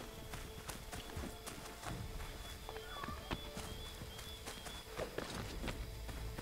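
Horse hooves clip-clop at a walking pace in the video game Assassin's Creed III, over a steady ambient background, with faint scattered knocks and a soft tone.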